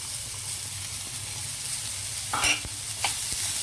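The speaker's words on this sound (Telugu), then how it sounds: "ఇప్పుడు ఇందులో బీట్రూట్ వేసి వేపుదామండి" Beetroot stir-frying in a little oil for beetroot pachadi: a soft continuous sizzle with a couple of sharp spatula scrapes near the end.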